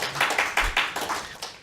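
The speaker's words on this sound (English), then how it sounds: "Big round of applause for Andrew." A small audience gives a round of applause at a live talk event, crisp hand claps close by in a steady burst, with no voices over it.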